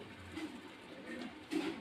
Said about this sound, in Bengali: পায়রা প্রচুর পায়রা আছে ভালো ভালো পায়রা